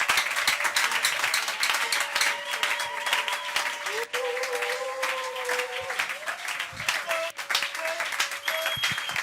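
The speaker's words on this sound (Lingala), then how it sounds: "Acclamons très fort pour le roi des rois." Sustained applause from a crowd, steady and fairly loud throughout, with a sung or spoken voice carrying over the clapping.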